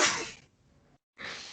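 One sharp, breathy sneeze bursts out close up, then fades into a short hush before a second rush of breath follows.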